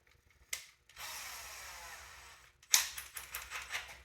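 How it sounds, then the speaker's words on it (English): A power drill with a round shank bit bores into wood for a small cylindrical mortise, with a short whir, a longer steady drilling run, then clattering bursts, all close and alone. "I'm going to use a power drill."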